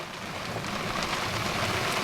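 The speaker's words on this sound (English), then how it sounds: "Now we have torrential rain again" Torrential rain pours down at sea in the Norwegian Sea, a dense, loud, unbroken hiss of heavy rainfall with no voices.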